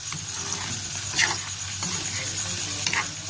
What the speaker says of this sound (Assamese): এইফালে মাংসখিনিত অলপমান পানী দিছে, তাৰপিছত লৰাই দিছে